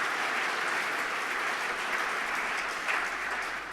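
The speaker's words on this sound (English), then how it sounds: "So I'd like to just give one more round of applause for that." Applause from a synagogue congregation at an annual event and bimah dedication: a steady, full round of clapping from many people that fills the room without pause.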